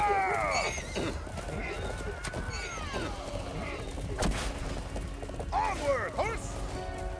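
A horse in a video game whinnies loudly twice, once at the start and again near the end, over a dense battle soundscape with clattering effects in between.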